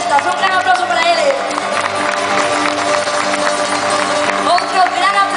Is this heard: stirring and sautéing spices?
no